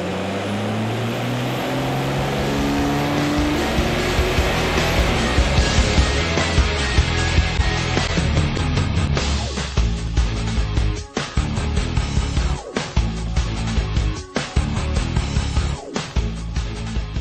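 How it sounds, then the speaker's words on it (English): A customer's Cummins diesel truck runs on a dyno with two-stage nitrous, a loud, continuous engine roar near the listener with a rising drone and sharp dips and stutters in the later part, and no voices. "We got a customer's Cummins diesel on the dyno."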